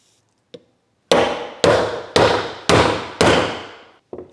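Five loud, evenly spaced hammer blows ring out close by as a part is driven down onto a BMW M50 turbo engine in an E30, with a light tap before and after.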